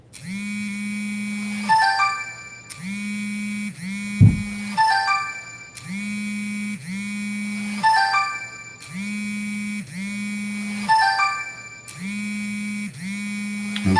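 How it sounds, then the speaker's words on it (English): A phone ringtone plays in a steady repeating electronic pattern, bursts of tones recurring about every two seconds against a low hum, fairly loud and with no talking over it. "excuse the phone ringing"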